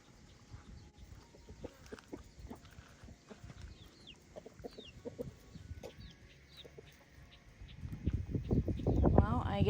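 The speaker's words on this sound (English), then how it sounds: "I guess most of the chickens are in here in the barn where it's nice and cool." Chickens cluck and murmur in a barn, a scattered chorus of soft clucks and calls close by, rising louder toward the end, with people talking quietly underneath.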